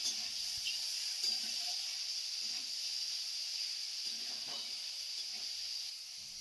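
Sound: mushrooms being stirred and fried in oil

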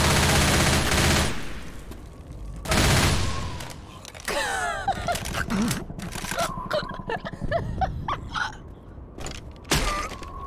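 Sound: pistol gunfire in Left 4 Dead 2 video game

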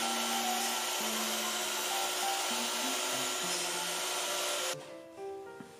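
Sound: cutting a notch out of a wooden mirror trim piece

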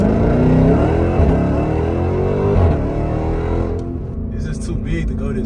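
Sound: Jeep Trackhawk accelerating fast

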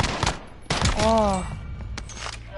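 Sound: pistol gunfire in a video game

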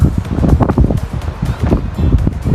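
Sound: wind blowing in a green forest near a waterfall

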